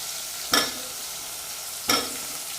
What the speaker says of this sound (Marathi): पहिले फक्त वांगी टाकून घेते आणि शिल्लक मसाला आहे तर आताच नाही टाकत पहिले वांगे तळून घेते